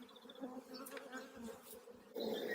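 Honey bees buzz inside an open beehive during a hive inspection, a soft, steady droning hum of many insects heard close up, swelling slightly louder near the end.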